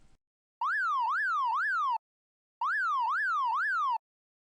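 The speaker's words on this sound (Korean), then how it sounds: "구급차가 도착했습니다." A wailing emergency siren, like an ambulance's, sounds in two clean, loud bursts of rapid rising-and-falling tones with a short silent gap between them.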